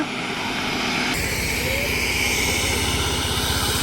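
The Prime Minister's helicopter drones steadily and loudly nearby, its rotor chopping out a rapid rhythmic thump beneath a broad engine roar.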